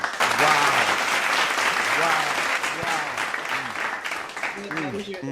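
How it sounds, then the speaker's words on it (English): Steady crowd applause fills the whole stretch at moderate level, with voices talking and calling out over it throughout. "We got to get a clap track."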